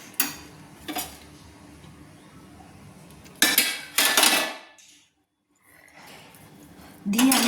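Chira pulao (flattened rice pilaf) stirred with ghee in a pan, a few brisk scraping and clinking bursts of a spoon against metal, close and moderately loud, separated by quieter gaps.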